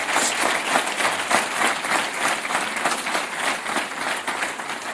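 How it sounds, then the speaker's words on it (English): An audience applauds a Serbian president at a public event, with dense, steady clapping that holds at an even loudness throughout with no talk over it. "please, a warm applause again."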